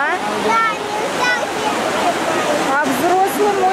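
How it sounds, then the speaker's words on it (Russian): Steady, loud rush of turbulent churning water from fountains at a children's water park pool, with voices and shouts of people mixed in over the roar. "Тут бешеная вода, тут опасно купаться."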